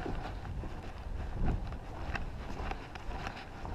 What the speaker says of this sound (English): But that wind is just ugly.